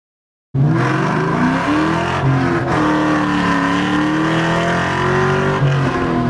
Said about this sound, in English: So then I went out and did some pulls in the car.